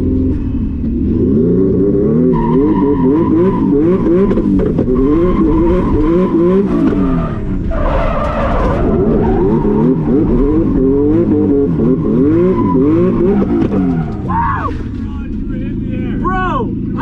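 A car being drifted, with loud revving engine sweeps rising and falling continuously and bursts of tire noise, while people talk over it throughout.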